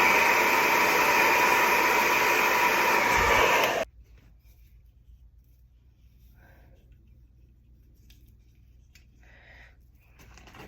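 A hair dryer blows loudly on high speed and high heat with a steady close roar, then cuts off abruptly after about four seconds, leaving near silence with a few faint rustles.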